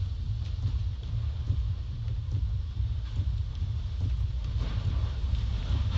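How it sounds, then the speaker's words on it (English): Hurricane Harvey's strong winds roar steadily as it makes landfall in Texas at Category 4, a loud continuous buffeting rush with heavy low rumble across the whole stretch. "winds 140, 130, probably 120 sustained, gusting at 145"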